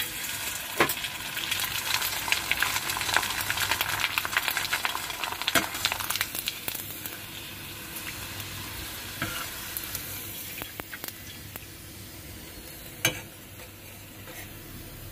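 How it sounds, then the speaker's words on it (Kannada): Rice papad fries in hot oil, a dense crackling sizzle that starts loud and busy and then gradually thins to softer, scattered pops, with a few sharp clicks and no talk. "ಹಪ್ಪಳ ಹಾಕ್ತಾ ಇದ್ದೀನಿ"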